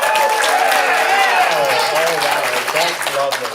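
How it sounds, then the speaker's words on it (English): A theatre audience claps in a sustained round of applause, heard beneath a voice speaking over it throughout. "give him a really good round of applause"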